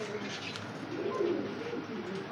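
Pigeons coo softly in low, rolling calls inside a pigeon-selling loft, heard faintly over a steady background hiss.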